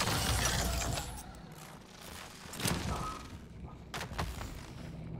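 Enemy gunfire in the sci-fi shooter Prey, loud bursts of shots with mechanical clatter near the start, then scattered sharper cracks and impacts over continuous game noise.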